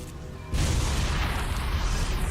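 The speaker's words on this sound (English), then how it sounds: "Explosion." A loud explosion in Bioshock bursts in suddenly and sits up close, then gives way to a sustained roaring rumble that carries on to the end.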